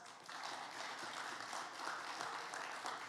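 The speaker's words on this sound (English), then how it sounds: "So please give them a round of applause." Church congregation applauding volunteers during a Sunday service, a faint, steady patter of many hands clapping that continues for a few seconds at a distance.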